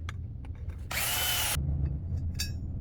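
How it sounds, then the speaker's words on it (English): A unibit step drill bores a hole in a metal vehicle chassis: a single loud, harsh whine of roughly two-thirds of a second, close by, with brief rattles and clicks of handling before and after and steady low background hum. "Just going to use a unibit right there."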